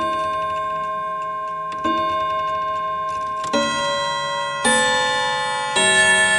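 An antique Davison Bros London clock, freshly calibrated, rings out a series of clear bell-like chime strikes in an uneven rhythm, five distinct tones ringing on with sustained overtones, close and moderately loud, with no talking.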